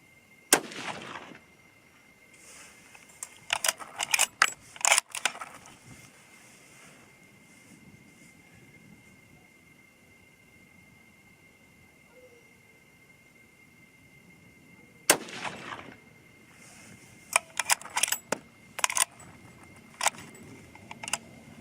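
.308 Winchester rifle loaded with 125 grain Sierra Tipped GameKing bullets: distant sharp shots in two clusters separated by a quiet gap, each crack followed by clicks and rattling handling noise.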